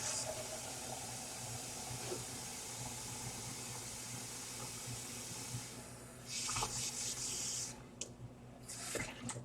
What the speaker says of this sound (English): I'm going to add 1, 2, 3, 4 tablespoons of white vinegar and 1 liter of water